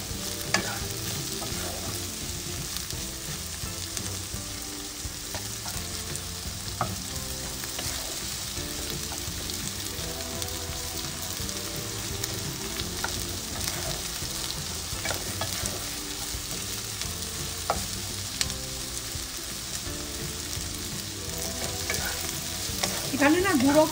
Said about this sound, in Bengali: পেঁয়াজটাও দেখো হালকা করে ভেজে নেব। এটাকে হালকা আছে ভেজে নিই।